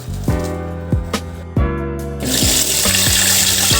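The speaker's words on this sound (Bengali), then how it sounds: "এখন আমরা সাজনা পাতাগুলো আলতোভাবে ধুয়ে নেব, যদি কোনো ধুলাবালু থাকে হয়তো সরে যাবে।" Water runs and splashes loudly and close as drumstick leaves are rinsed in a kitchen, with irregular knocks and clatter early on, then a steadier rush of running water with no talking.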